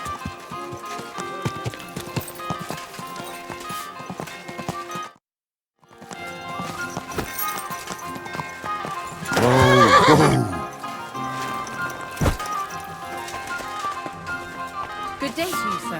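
Horse hooves clip-clopping and a horse neighing in the medieval video game Kingdom Come: Deliverance II, steady hoofbeats broken by a brief silence, then a loud whinny, with background music and someone speaking over it.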